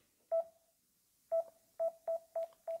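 A Samsung Galaxy A11 plays short electronic beep tones as its volume is raised and lowered. There is one beep, a pause, then five quick beeps, close and clean with no talking.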